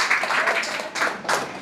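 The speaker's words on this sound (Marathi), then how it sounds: "तर नितेशसाठी जोरदार टाळ्या." Applause at a group gathering on a Kolad ride, a short burst of clapping from a small crowd, fairly close, swelling twice over a second and a half.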